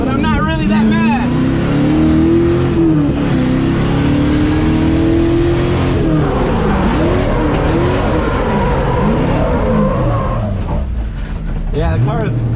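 A race car drifting at a bash event, its engine revving and rising and falling in pitch through long sustained pulls, loud and close, with tire noise and some crowd or voice sounds mixed in.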